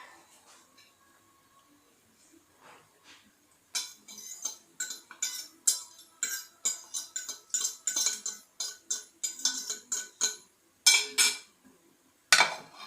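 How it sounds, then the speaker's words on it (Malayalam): A spoon clinks and scrapes against a bowl while mixing urad dal batter for medu vada, quiet at first, then a run of close, rhythmic clatters with short pauses. "നമ്മൾ നല്ലവണ്ണം ഇളക്കി ചേർക്കണം"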